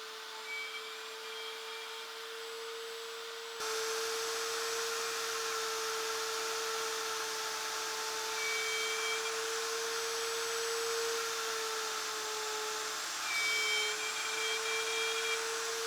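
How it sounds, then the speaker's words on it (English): A horizontal mortiser cuts end-grain mortises in a wooden bookcase workpiece, starting with a low hum and then running as a steady whine with faint grinding under a constant tone. "Now to make those mortises, I'm going to use my horizontal mortiser"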